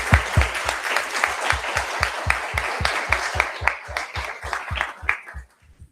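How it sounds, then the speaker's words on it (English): Big round of audience applause at an Erasmus Student Network national event in Groningen, the Netherlands: loud, dense clapping that falls into a steady rhythmic beat, then drops off abruptly near the end. "please, one more round of a big applause."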